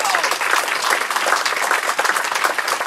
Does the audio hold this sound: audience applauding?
yes